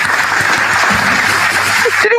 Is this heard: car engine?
no